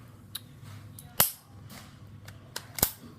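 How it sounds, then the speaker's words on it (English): A Ruger LC9s pistol being dry fired, with two sharp, dry clicks, a louder one near the middle and another toward the end, plus faint handling noise, close and with no talking. "So at this point, you dry fire it,"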